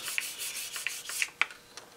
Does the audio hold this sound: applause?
no